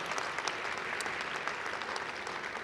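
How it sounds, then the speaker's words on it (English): Audience applause in a high school gathering for a presidential visit, steady dense clapping at moderate volume throughout, with no talking. "So let's give them a round of applause."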